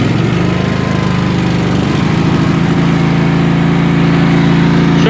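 Kohler Command small engine on a riding mower, running loud and close: a steady mid-pitched engine drone whose tone shifts slightly partway through, then settles into an even idle, with no talking.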